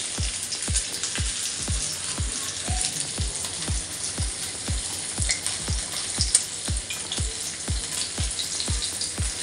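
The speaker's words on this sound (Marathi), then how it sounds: "पहिला पापलेट दोन्ही फ्राय करून घेणार" Pomfret fish frying in hot oil seasoned with curry leaves, a steady crackling sizzle broken by regular spatter pops about every half second, close and loud with no voices.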